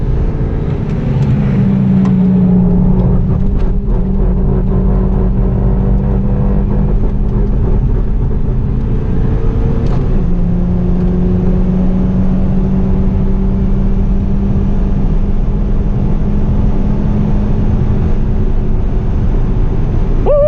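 A Hyundai Avante MD on the Inje Speedium circuit drones loudly and steadily from inside the cabin, its engine note holding a constant pitch with a brief dip around a gear change, no voices.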